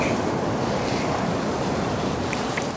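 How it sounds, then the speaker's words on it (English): Strong outdoor wind buffets the microphone during a spring bear hunt, a steady, loud roar with no break across the whole moment. No voices are heard. "That wind is bad right now."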